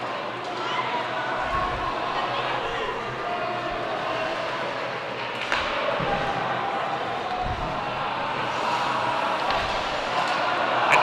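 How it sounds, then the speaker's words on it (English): A Northport crowd chants and cheers at a varsity high school ice hockey game against Smithtown Hauppauge, a steady broad roar of many voices that swells slightly toward the end. "the Northport crowd in this case, begins to serenade the Bulls"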